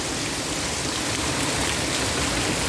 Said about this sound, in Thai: แรงจริงครับ น้ำไหลอู้เลย